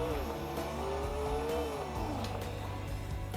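A Bugatti drifting in a racing video game: a steady engine drone with a rising and falling tone and some tire noise, held at moderate level across the whole stretch with no voices.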